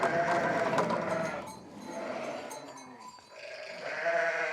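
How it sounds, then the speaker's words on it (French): Caussenarde sheep on a farm bleat repeatedly in a loud, close chorus, with overlapping calls rising and falling and a brief lull near the middle. "Les brebis, là, donc c'est les brebis cossenardes,"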